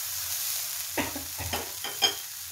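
A frying spice mixture with turmeric and chili powder is stirred in a pan, giving a few short scraping and sizzling bursts over a low steady sizzle, close and moderately quiet, with no talking.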